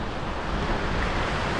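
Surf rolling onto First Beach in Turkey, a steady broadband wash of waves with wind buffeting the microphone, loud and continuous with no voices.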